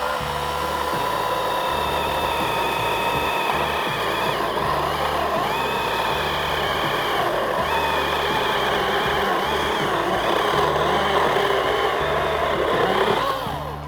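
A Makita 18V mini cordless chainsaw cutting through a thick branch, its motor whining steadily at close range for the full stretch, with a rhythmic low chatter and slight pitch dips as the chain bites under load.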